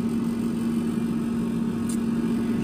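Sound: pellet grill attachment fan shutting down

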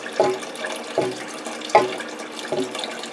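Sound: water draining out of a cistern pump tank

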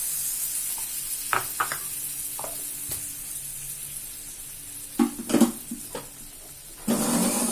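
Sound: ground coconut and curd poured into hot tempering, sizzling

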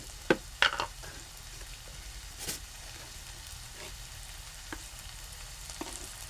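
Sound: sautéing onion and tomato with salt in pan

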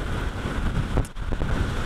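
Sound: wind blowing on coast at Portland Bill, Dorset

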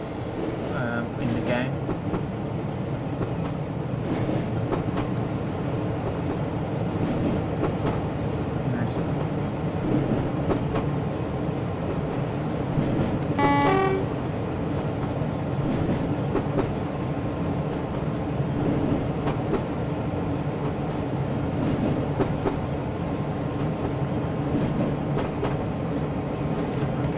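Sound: Class 33 diesel locomotive sounds in Train Sim World video game

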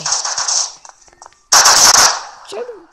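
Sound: gunfire in Prop Hunt video game

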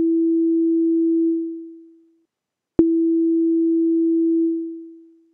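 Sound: synth note with slow envelope release decaying

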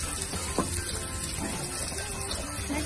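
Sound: garlic frying in oil

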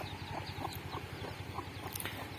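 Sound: chicken clucking

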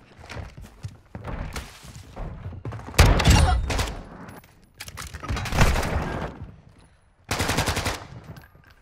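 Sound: hip-fire shotgun slug shots in a video game

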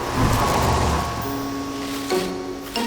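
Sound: car approaching

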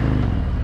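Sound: motorcycle engine revving

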